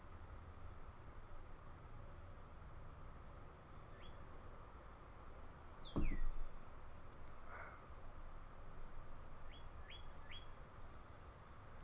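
Outdoors, faint scattered bird chirps and short tweets sound over a constant insect-like hiss, with one brief louder rustle midway.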